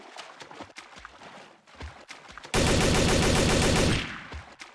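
A burst of rapid automatic gunfire rattles loudly for over a second, preceded by scattered sharper shots and clicks in a Garry's Mod game soundscape.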